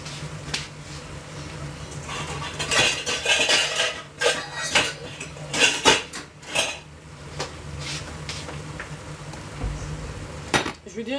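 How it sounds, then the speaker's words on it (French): A knife cutting mushrooms on a board in a home kitchen, giving irregular close taps and knocks that come in clusters with short pauses, along with faint clatter of utensils. "Je vais couper les champignons."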